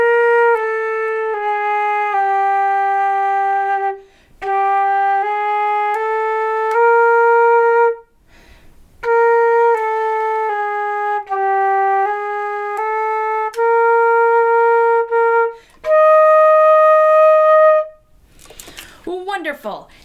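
A flute plays an exercise from Standard of Excellence Book 1, clear sustained notes in short phrases split by breaths, closing with a brief higher held tone and a scrape of noise.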